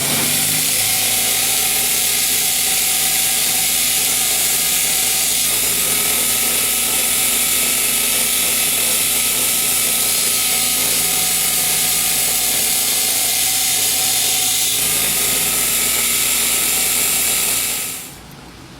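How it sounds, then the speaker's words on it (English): Power grinder steadily grinding down a brake shoe to put a slight bevel on it, a loud continuous whine and rasp held for about seventeen seconds before cutting off at the end. "I'm going to grind this down, put a slight bevel on it"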